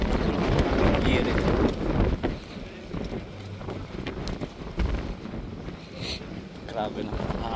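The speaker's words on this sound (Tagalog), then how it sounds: "so windy." Strong wind at an outdoor vintage car show in Feilding, New Zealand, roaring and buffeting the microphone in heavy gusts, easing midway, with a voice speaking intermittently beneath.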